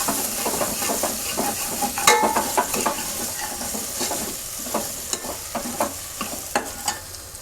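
Ginger, garlic and green chili paste frying in a pot for Punjabi-style rajma, a close crackling sizzle broken by frequent scraping stirs of a spoon against the pan.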